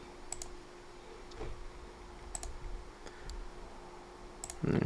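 A handful of crisp, sparse keyboard and mouse clicks on a computer, faint and close, with brief pauses between the taps and a short louder knock at the end.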